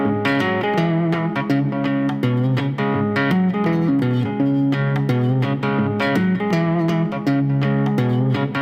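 Guitar riff played on the three low strings (6, 5 and 4): steady, rhythmic picked notes ringing with rich harmonics, loud and close with no talking.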